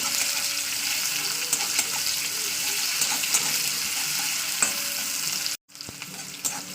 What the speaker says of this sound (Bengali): দিয়ে দিলাম পেঁয়াজটাকে এবার পেঁয়াজটাকে একটু লাল করে ভেজে নেবো